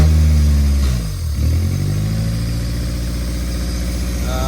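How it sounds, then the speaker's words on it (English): A built Honda D16Y8 engine in an EG Civic idles high and steady, a loud continuous low rumble with a brief dip in pitch near the start before settling back to an even drone. "We got a little bit of a high idle."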